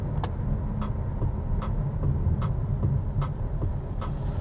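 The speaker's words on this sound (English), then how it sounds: "It's the indicator noise." The turn indicator of a Jeep Avenger electric car ticks at an even pace, about every 0.8 seconds, over a low steady rumble of road noise inside the cabin.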